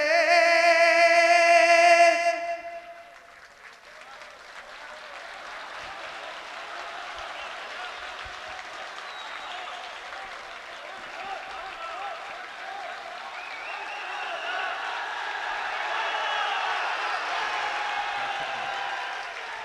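An audience at a speech breaks into sustained applause just after a voice, then keeps clapping steadily for a long stretch, swelling slightly again toward the end.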